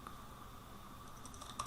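Quiet typing on a computer keyboard during a Vue.js coding session, soft rapid keystrokes over a faint steady background hum, with a slightly louder key tap near the end.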